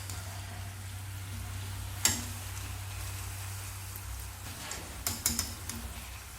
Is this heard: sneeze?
no